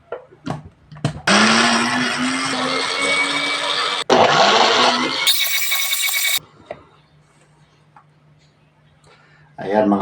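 A kitchen blender whirs loudly through a batch of carrots in two long bursts with a brief break between them. A higher, harsher whine follows, then the motor stops and leaves a faint low hum.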